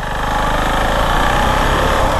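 Husqvarna Vitpilen 701 motorcycle with a 700cc single-cylinder engine pulling away on new tyres, a loud steady throbbing engine note held close throughout with no talk.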